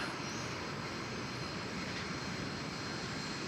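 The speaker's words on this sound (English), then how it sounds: "Felt like a small parade of small aircraft." Small cargo and passenger planes moving at DFW Airport on an early morning, giving a steady, loud broadband engine roar with low rumble that holds continuously without talk.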